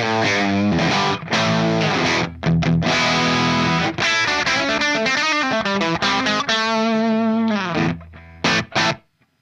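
An electric guitar plays through an overdriven amp with a Maxon SD-9 pedal bypassed, loud and close, with strummed distorted chords and sustained notes that end in a few choppy stabs.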